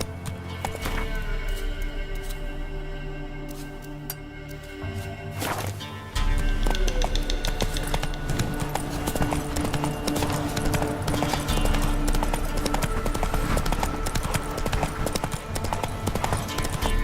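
Hooves of a galloping horse drum steadily in The Witcher 3 video game, a fast continuous clip-clop that picks up and grows louder partway through, set over game ambience and music with faint speech.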